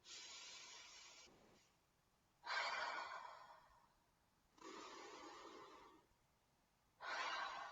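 Slow, deep breaths into the chest during a beginner relaxation exercise, soft breathy hisses of inhaling and exhaling alternating in an even rhythm with short pauses between, close and quiet, with no talking.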